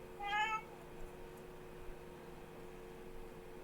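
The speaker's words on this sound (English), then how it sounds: "I got my cat meowing." A cat gives a single short meow, clear and fairly close, in an otherwise quiet room with only a faint steady hum afterward.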